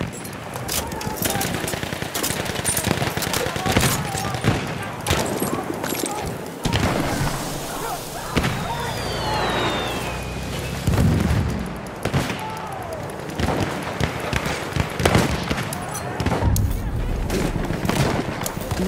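Rapid gunfire and grenade blasts from a Battlefield 1 multiplayer match, loud and continuous, mixed with game voice lines and player talk throughout.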